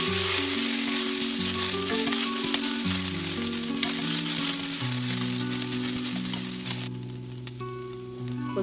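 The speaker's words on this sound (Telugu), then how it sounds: "పుదీనాను వేసి వేయించుకోవాలి. అది పచ్చి వాసన పోయేలాగా వేయించుకోవాలి" Fresh mint leaves frying in a pan for a tomato-mint roti chutney give a steady, close crackling sizzle, with a low tonal drone running underneath the whole time.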